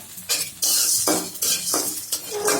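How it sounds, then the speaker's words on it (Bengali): Cooked rice frying in a pan and stirred with a utensil in small batches, heard as a soft steady sizzle broken by five or six scraping strokes of the spoon against the pan. "অল্প করে ভেজে নিচ্ছি"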